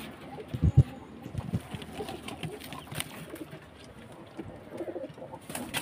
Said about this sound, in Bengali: তো আমরা প্রত্যেকটা কবুতরের সঠিক জোড়া বেছে নিয়ে যার যার বাসায় রেখে দিচ্ছি।